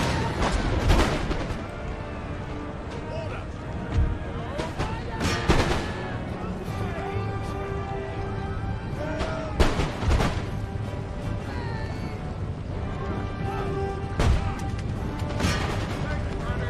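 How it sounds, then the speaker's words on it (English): In Empire: Total War, cannons boom in scattered, heavy blasts over a continuous rumble of battle noise, with crashes and impacts amid the din and someone talking throughout. "Really decent hits from those cannons."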